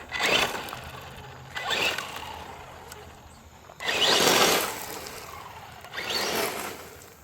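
An Arrma Senton 3s off-road RC truck runs indoors at home, its electric motor whirring in four surging bursts that rise and fade, close and fairly loud.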